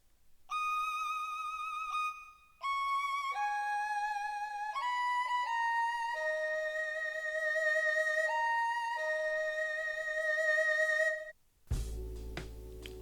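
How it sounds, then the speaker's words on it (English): A sampled erhu string patch in FL Studio plays a slow, clean melodic line of sustained bowed notes with gliding pitch changes, loud and alone for about eleven seconds before a brief different sound cuts in. "I then added another sound which is called an Erhu String."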